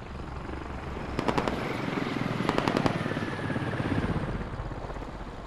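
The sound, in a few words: helicopter flying in the video game Squad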